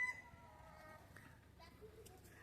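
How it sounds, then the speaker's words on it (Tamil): Black and white hens and a rooster on a small farm in the UAE cluck faintly in the distance, their thin calls sitting low in a quiet outdoor background. "கருப்பு கோழி, வெள்ளை கோழி, சேவல் எல்லாமே இருக்குங்க."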